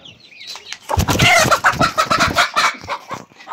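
Several chickens cluck loudly and rapidly up close, a busy jumble of short squawks and cackles from the flock.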